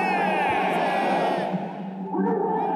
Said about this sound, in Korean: 이제 모두 함께 태극기를 들고 김구 선생님의 선창에 맞춰 만세를 3번 힘차게 외치겠습니다